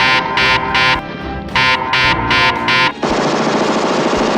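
Rapid bursts of gunfire from a shootout scene in the 1980s film The Stuff, several loud clipped volleys separated by short gaps, then a sustained dense roar of shooting.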